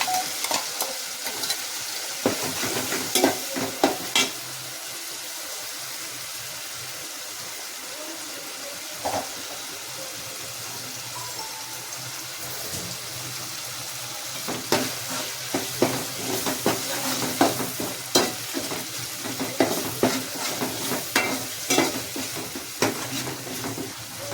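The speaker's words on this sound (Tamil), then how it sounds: "கொஞ்சம் நல்லா எண்ணெயில் வதங்கட்டும்." Tomato with onion, ginger and garlic paste fries in oil for a home-style chicken curry. A continuous sizzle runs under repeated scraping stirs, with occasional clatters from the pan. No talk is heard.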